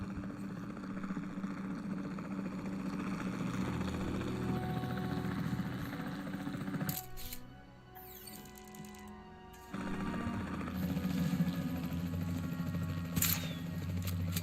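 Steady rotor drone of a helicopter in the Jurassic World Evolution 2 video game, sent out to tranquilize dinosaurs, running loud and continuous with a brief dip in the middle before resuming.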